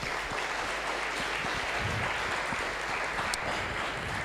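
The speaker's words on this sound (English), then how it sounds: "Applause, please." Audience applause fills the room at the Bright Labs Incubator Demo Day 2023 in Oradea, a dense, steady wash of clapping at moderate loudness that lasts about four seconds with no talk over it.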